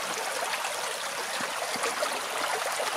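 A stream flows steadily nearby with a continuous rushing, bubbling wash of water, even in level and with no voices.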